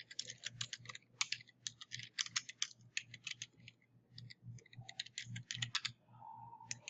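Fast, crisp typing on a computer keyboard, bursts of close clicking keystrokes with short pauses, alone with no talk.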